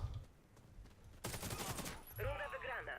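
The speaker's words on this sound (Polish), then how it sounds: "Tam cały czas strzały padają." Bursts of Warface gunfire crackle in rapid volleys during a ranked match, followed by a spoken voice, all at moderate volume.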